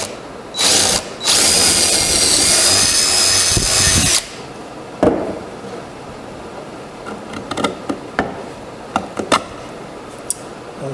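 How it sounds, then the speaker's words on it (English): A power drill bores freehand through a cedar table leg for a camping table: two loud whirring bursts, the second longer, then sparse clicks and knocks as the bit stops. "I'm going to freehand a hole through here"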